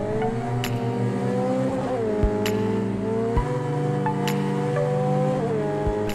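Racing car engine with tyre noise from Project Cars 2, driving along a California highway: a loud, steady high engine drone with shifting pitch and a few brief thumps, no voices.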